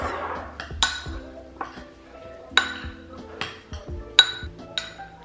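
Brussels sprouts and vegetables being stirred in a pan, a spoon clinking against the metal in several sharp, separate knocks and scrapes at close range, with no one talking.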